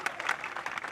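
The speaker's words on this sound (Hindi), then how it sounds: "ताली बजाओ, सांस लेना है।" Faint, sustained clapping from an audience at a Hindi comedy poetry recital, heard from a distance as a soft, even patter with no voices.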